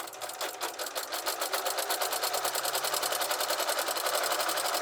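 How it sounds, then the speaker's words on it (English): A sewing machine with a walking foot sews a straight quarter-inch seam through several layers of a quilt-as-you-go place mat. It hums in a fast, even rhythmic chatter that speeds up early and then holds steady, close and alone. "We're going to go over to the machine and we're going to stitch 1/4 inch straight down."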